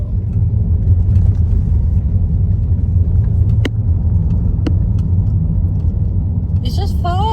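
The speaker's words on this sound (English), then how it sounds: "I love driving down these old brick streets." A car rolls steadily over old brick streets, a continuous low rumble and road noise from inside the cabin with a couple of brief clicks, ending with a short melodic chime.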